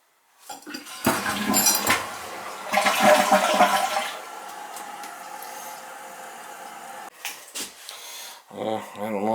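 A newly installed replacement toilet flushes in bursts, rushing water swelling and fading over several seconds with clinks, while a voice briefly speaks near the end.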